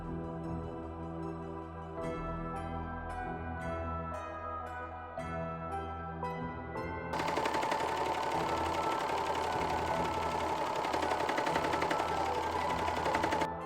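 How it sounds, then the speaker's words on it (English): A serger overlocker stitches flatlined fabric pieces for a Beetlejuice ball gown cosplay, a steady continuous mechanical whir with a rhythmic tapping at first, then a louder, denser run for the second half, close and with no voices. "From there, I flatlined the pieces together and then serged everything."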